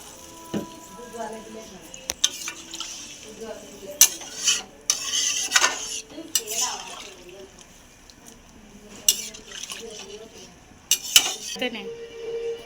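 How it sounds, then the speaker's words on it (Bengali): Water splashes into a pot of simmering Bengali potato curry, with pot clatter, stirring clinks and a soft sizzle in irregular bursts, close by and fairly loud, while someone talks now and then. "এবার আমি জল দিয়ে দেবো।"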